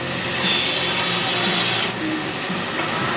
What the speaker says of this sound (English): Rather than remove all that excess with his belt grinder, he's come to the bandsaw.